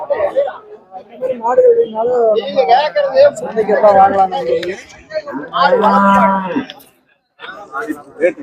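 Cattle low with long drawn-out moos amid the murmur of people chatting nearby, at the Siruvalur cattle market in Tamil Nadu where cows and buffaloes are sold.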